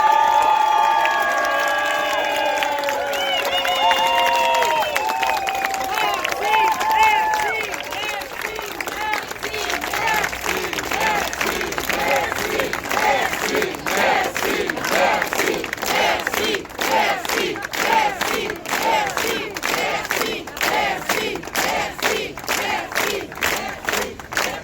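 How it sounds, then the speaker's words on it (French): At a peaceful citizens' protest, a crowd breaks into shouts and cheers that give way to sustained rhythmic clapping, loud and lively, with voices calling out over it. "ça mérite une super main d'applaudissements"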